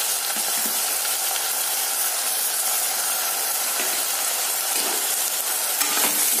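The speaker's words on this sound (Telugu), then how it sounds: "ఈ కలర్ వచ్చే వరకు వేగాలండి." Spices fry in a hot pan while being stirred, before a garam masala paste is added. A loud, continuous sizzle and hiss runs throughout, with a few faint scraping stirs and no voices.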